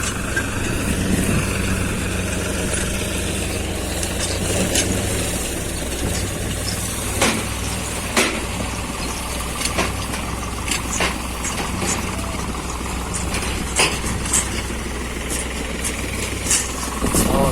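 Tractor engines idling in a field during harvest, a continuous rough diesel rumble with rattling mechanical clatter and occasional sharp knocks, steady and fairly close throughout.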